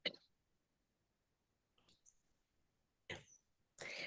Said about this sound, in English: What's that cough for?